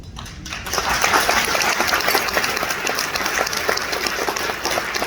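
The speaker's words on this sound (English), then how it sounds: "I hope you'll join me in a round of applause for Inez" An audience applauds for Inez at a tribute event, a steady, dense round of clapping that carries evenly throughout, fairly loud and close.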